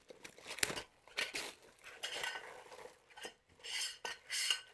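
Metal shelf supports are fitted onto a WorkPro mobile utility cart, giving quiet clinks, scrapes and rattles of metal parts in irregular bursts, close and fairly soft.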